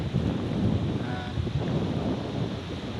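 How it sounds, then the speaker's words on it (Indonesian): Waves and wind on Kelapa Lima beach behind a hotel, a steady broadband wash of surf with gusty wind buffeting the microphone, continuous and fairly close throughout, with no voices. "di sini sekarang saya berada di pantai belakang Hotel On The Rock, di pantai Kelapa Lima"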